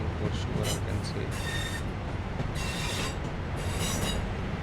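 A BR 323 locomotive runs in the train simulator game Train Sim World 4, giving a continuous rolling rail rumble with wheel squeal, while a voice talks intermittently over it.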